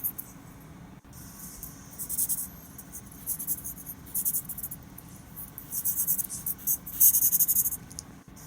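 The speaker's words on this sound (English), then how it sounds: "you're going to start by drawing a picture" A pencil sketches a quick picture on paper for printmaking prep, making soft, close scratchy strokes in irregular bursts that grow busier toward the end.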